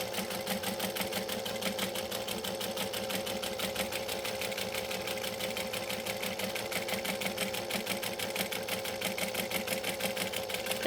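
Sewing machine stitching a straight line on a fabric pouch, a fast steady rhythmic clatter of needle strokes running continuously for the whole stretch, close and moderately quiet, no voices.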